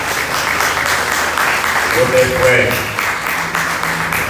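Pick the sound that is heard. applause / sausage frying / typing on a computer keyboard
applause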